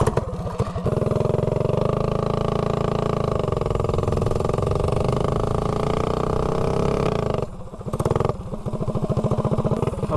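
A Predator 224 mini bike engine with a 26mm carburetor pulls hard from 0 to 30, a loud, close, rising buzzy roar that holds high, drops off briefly near the end, then revs again.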